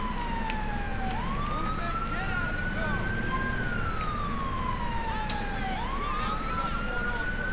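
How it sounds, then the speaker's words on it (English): Police car siren in GTA IV with the LCPDFR mod, a wailing tone that slowly rises and falls in long sweeps over steady engine and road noise, fairly close and continuous throughout. "Alright, kill the siren."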